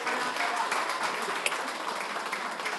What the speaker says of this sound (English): Can we give an applause to ourselves here?